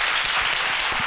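Studio audience applause at a television show, a dense steady wash of clapping filling the whole short moment without any voices.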